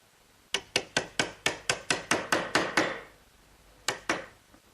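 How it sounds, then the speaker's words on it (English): Sharp chisel cleaning out the rounded corner of a rabbet in oak, heard as about ten crisp, evenly spaced knocks in a quick rhythm, then a pause and two more blows, close and fairly loud with no talk. "So I'll clean out that area with a nice sharp chisel."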